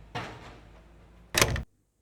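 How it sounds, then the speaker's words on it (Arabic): A door closing, added as a sound effect in editing. First comes a soft swish as it swings, then a loud, sharp slam about a second later that cuts off abruptly. The sound is close and there is no talking. "هي طق دابا تسمع الباب تسد مزيان"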